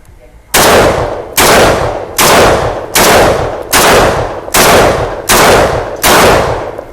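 A Saiga 12-C shotgun empties a full magazine in eight loud, evenly spaced blasts, each with a sharp crack and short echoing tail, close to the listener.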